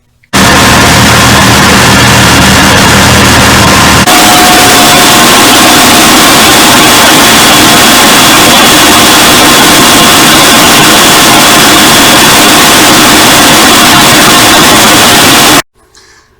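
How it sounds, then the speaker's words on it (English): Tractor engine pulling a Horsch Avatar SD seeder starts with a low rough chug, then rises into a loud, steady roar with a faint whine that holds for about eleven seconds before cutting off sharply. "Now we'll start the tractor up"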